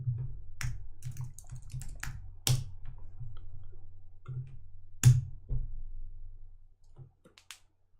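Keys clatter on a wireless Mac keyboard in uneven bursts of soft clicks, broken by a few sharper, louder strikes and trailing off toward the end, close and without talk.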